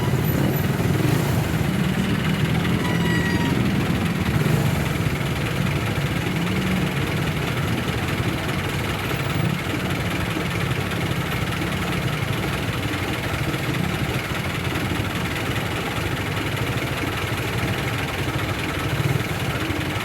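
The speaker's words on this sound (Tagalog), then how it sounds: "Kaya lang talagang super, ang traffic." Dense, steady rumble of many engines idling and crawling in heavy traffic, continuous and loud throughout with no voices.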